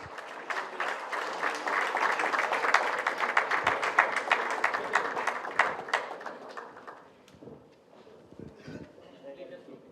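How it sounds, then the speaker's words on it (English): Audience at a memorial address breaks into sustained, dense clapping lasting several seconds before thinning out into a few scattered claps, close and fairly loud. "big round of applause, please"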